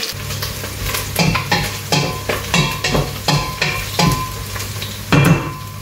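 Onions frying in oil in a pot with a spoon stirring them, a steady sizzle broken by regular scraping strokes roughly every half second, close and loud.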